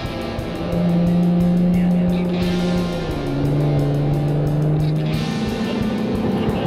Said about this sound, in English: And now we're testing the F-Type R here on the racetrack on the Bilsterberg.